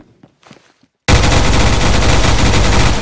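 Gunfire in the Roblox shooter Phantom Forces opens abruptly after a brief faint moment, becoming a loud, continuous close-range burst of rapid shots that fills the rest of the moment.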